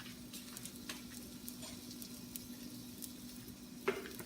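Garlic sizzling in hot oil alongside ginger, cooked for red snapper, a faint steady crackle and hiss with soft stirring taps and one sharper clank near the end.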